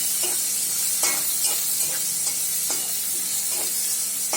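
Chopped garlic, onion and green chili fry in a pan for a ridge gourd paturi, giving a steady close sizzle broken by repeated crackling pops and stirring scrapes at an irregular rhythm.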